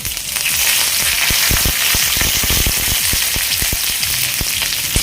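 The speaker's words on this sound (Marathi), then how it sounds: "मी सहा सात हिरव्या मिरच्या स्लीट करून घेतलेल्या आहेत त्या घालते कढीपत्त्याची पानं घालते" Slit green chillies and curry leaves sizzle and spatter in hot oil with mustard seeds for dhokla tempering, a loud steady hiss broken by many sharp popping crackles throughout, no voices.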